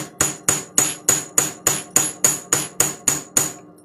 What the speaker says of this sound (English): I'm just going to take my chasing hammer